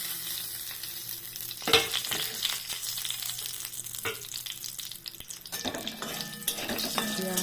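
Bay leaves and garam masala fry in a pan with a close, crackling sizzle while a spoon stirs and scrapes through them, with one sharp clink early on and busier, louder frying toward the end.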